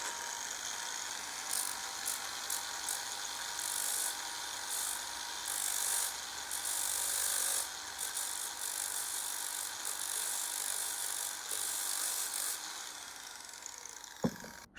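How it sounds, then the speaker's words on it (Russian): An angle grinder runs continuously while cutting metal to adapt discs for a bench grinder, a steady high whine with rattling bursts and brief load changes, ending in a sharp stop. "Ну, включаем станок. Болгарку."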